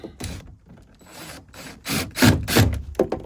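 Screws are driven into a plastic front door speaker mount of a 1993-1997 Nissan Altima, heard as a few close grinding, rasping bursts that grow louder and rougher toward the end.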